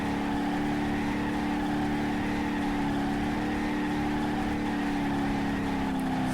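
A V10-powered ex-police truck in BeamNG.drive does a burnout in third gear, its engine roaring at steady high revs for several seconds, loud and sustained with a slight waver in pitch.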